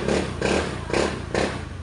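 A Honda Scoopy scooter engine, freshly refilled after running out of oil, idles smoothly and quietly with a steady pulsing rhythm, four even surges in under two seconds, close by with no talk.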